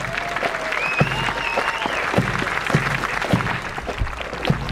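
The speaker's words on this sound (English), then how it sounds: "Let's give them a big round of applause." Audience applause at a U.S. Marine Corps officer candidate graduation, a steady dense clapping from a large crowd lasting several seconds, with a few distant voices and whistles mixed in.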